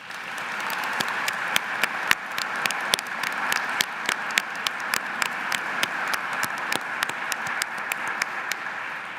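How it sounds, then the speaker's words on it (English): A seated crowd applauds at a physician assistant program hooding ceremony for a graduating class, with sustained clapping for about nine seconds in which sharp individual claps stand out against a moderate wash of hands. "let's give him a good round of applause"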